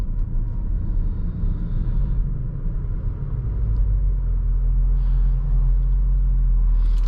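Steady engine and road rumble from a 2018 Audi SQ5 SUV being driven, a continuous low drone that swells slightly in the second half, with no talking.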